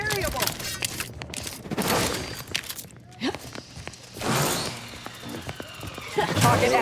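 Gunfire in The Outer Worlds 2 video game, a few sharp shots scattered among footsteps, game effects and a man's sighs and muttering, with brief broadband bursts rather than a steady volley.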